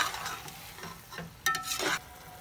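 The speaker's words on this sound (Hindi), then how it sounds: "बस इसको अब हम इस तरह फ्राई करते रहेंगे" Okra and tomatoes frying with cumin in a pan, a steady close sizzle with a few stirring scrapes and a louder burst of clatter toward the end.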